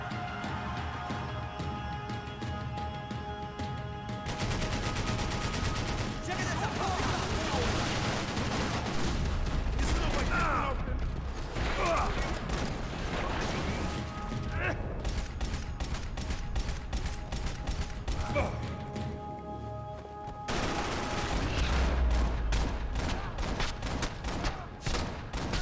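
Heavy automatic gunfire from a light machine gun in the shooter game Max Payne 3, sustained bursts with rattling impacts and explosions over game music, loud and continuous with brief lulls before resuming.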